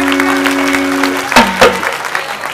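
Audience at a rural Marathi kirtan gathering of farmers breaks into applause, a rough, sustained clatter of many hands with a couple of sharper bursts, alongside a lingering held tone.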